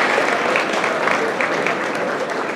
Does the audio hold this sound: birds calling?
no